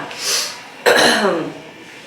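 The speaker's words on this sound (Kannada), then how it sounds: "ಸ್ವಲ್ಪ ಕೆಮ್ಮು ಮನೇಲಿ ಎಲ್ಲರಿಗೂ ಕೆಮ್ಮು" One sharp, close cough bursts out after a breathy exhale, trailing into a short voiced rasp.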